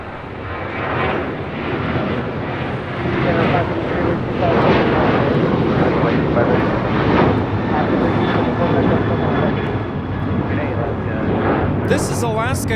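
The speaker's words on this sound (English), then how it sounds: "This is Alaska Airlines 1374 taking off to Loretto on a 737-900ER." Alaska Airlines Boeing 737-900ER taking off at LAX, a loud sustained jet engine roar that rises and holds at full power for over twelve seconds.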